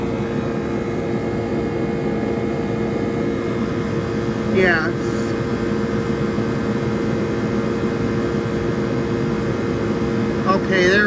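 A 1978 Comfort-Aire Quietmaster Heat Controller air conditioner runs with a steady, loud mechanical hum and whirring fan, continuous throughout, with a couple of brief squeaky chirps breaking through.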